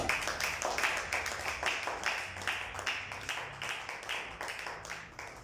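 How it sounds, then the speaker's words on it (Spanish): Congregation in a church service clapping together, a steady run of sharp, fairly even hand claps that fills the space, close and continuous with no voices over it. "denle un fuerte aplauso al Señor Jesús"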